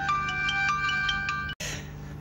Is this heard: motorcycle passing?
no